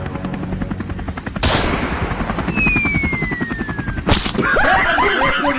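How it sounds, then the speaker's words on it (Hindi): Rapid bursts of gunfire crackle over a steady helicopter rotor thrum, with a sharp high whine sliding through the middle. "लोखंडे मार गोली हेलीकॉप्टर में।"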